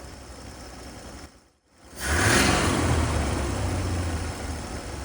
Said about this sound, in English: you can tell that it's revving and running fairly cleanly